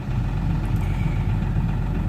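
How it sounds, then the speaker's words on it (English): A truck engine idles nearby with a steady, heavy low rumble that continues unchanged from start to finish. "Well, apologies for the truck noise."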